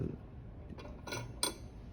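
Metal pan cover being set onto a tray, giving a few light, close clinks and taps, a sharper metallic tick near the end, all fairly quiet.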